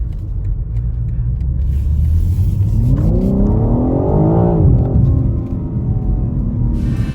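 BMW M3 Competition Touring xDrive with its S58 engine revving up hard around the middle, rising harmonics climbing to a peak then falling back to a steady loud rumble, close and clear with no talk.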